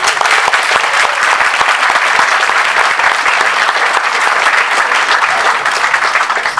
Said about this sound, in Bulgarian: Вашите аплодисменти за Перото, за Мувбиджи